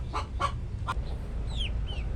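Chickens cluck in a few short bursts close by, with faint chirps over a steady low background rumble.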